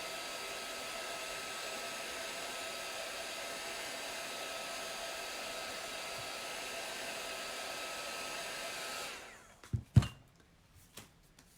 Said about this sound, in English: Gotta really make sure I really heat set that well and dry it